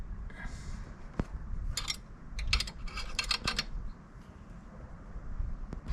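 A ratchet tightens a strut on a BMW GS motorcycle's side protection, giving several bursts of quick clicks with a few sharp metallic taps, close and fairly quiet, with no voices.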